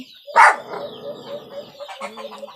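A brooding hen sitting on her eggs gives a loud, close cluck and a low throaty call, followed by softer drawn-out clucking murmurs that trail off over the next two seconds, with no one talking.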